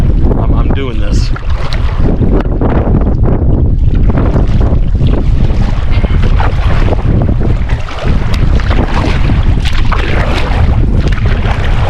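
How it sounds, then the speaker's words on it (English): Strong wind roars steadily across the microphone on a large 400-acre lake in Nebraska, a loud continuous buffeting rush with water and boat noise underneath and no clear pauses. "Oh man, that's windy."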